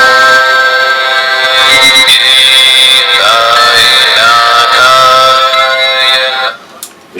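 A Budda Box chanting loop player sounds a sustained drone of layered harmonic tones with slow pitch shifts, playing alone for about six seconds before cutting off abruptly.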